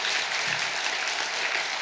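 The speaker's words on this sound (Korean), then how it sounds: "이럴 때는 박수 쳐야 되는 거예요" Dense, even applause from a large audience at a Buddhist dharma assembly at Bongeunsa temple, loud and sustained for the whole stretch.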